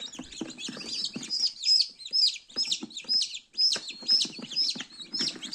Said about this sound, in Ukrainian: хто пішить, хто кричить, хто в нас тут вилупляється.